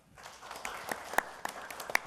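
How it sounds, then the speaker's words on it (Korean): Scattered applause at a National Assembly policy panel discussion greets a student journalist, starting sparse and quiet and building into a moderate patter with a few sharp, distinct claps standing out. "권유빈 그 한대신문 기자 참석해 주신 큰 박수로 맞아 주십시오."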